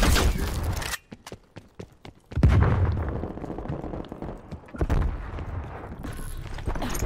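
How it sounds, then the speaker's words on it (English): A flashbang grenade going off in Call of Duty Cold War amid a firefight: loud sharp bursts and a heavy blast near the start and middle, with scattered gunshot cracks throughout. "Flashbang going out."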